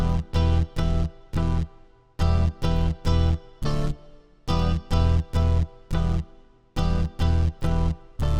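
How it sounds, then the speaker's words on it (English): Heavy distorted bass pounds out loud, chopped notes in a repeating rhythmic pattern with brief gaps between phrases, no voices. "Then finally I added that heavy distorted bass to sound like this."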